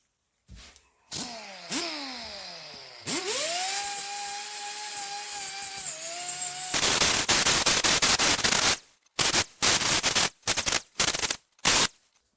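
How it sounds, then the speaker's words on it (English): A power tool grinding and sanding plastic finish on the fender of a Chevy Express Quigley van conversion: a rising whine that settles into a steady loud drone, then harsh rattling bursts with short pauses, close up. "So I'm just going to put this stuff on there. And then I'll grind or sand that."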